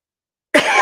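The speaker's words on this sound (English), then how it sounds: "I'm sorry to cough on the phone like that" Sudden close cough bursts out after silence, a harsh choking cough from something going down the throat the wrong way, cut short at the end.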